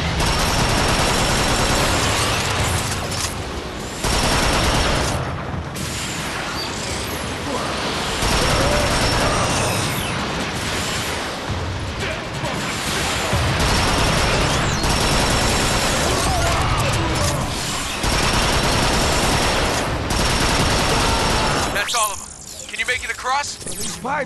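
Sustained bursts of automatic gunfire and explosive rocket blasts fill a battle in the video game Transformers: Fall of Cybertron, loud and dense almost throughout, with brief gaps and game voices mixed in.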